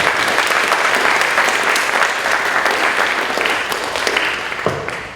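Audience at a National Junior Honor Society induction ceremony giving a loud, sustained round of applause that tapers off near the end.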